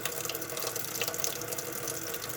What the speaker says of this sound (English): I made this water fountain style faucet attachment using a